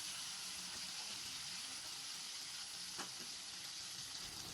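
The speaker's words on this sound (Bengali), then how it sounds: "তেল গরম হয়ে গেলে পেঁয়াজ বাটাগুলো দিয়ে দিব" Onion paste frying in a wok of mixed mustard and soybean oil during home cooking of a Bengali vegetable curry, giving a steady, close hiss and sizzle with one faint clink partway through.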